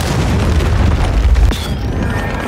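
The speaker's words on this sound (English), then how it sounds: "Hostiles launched a cruise missile" Cruise missile explosion in the video game Modern Warfare 3, a loud, close, rumbling boom that rolls on for about two seconds before tailing off.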